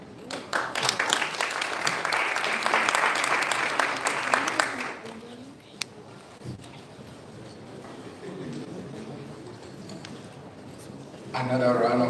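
Audience applause at an Africa Climate Week panel session, a burst of clapping for the first five seconds that tapers off, followed by quieter room noise and talk.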